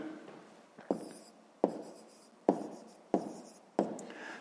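Numbers are written by hand with a pen on paper during a fifth-grade math exercise: five distinct scratchy strokes, close and quiet, each followed by a short fading scrape.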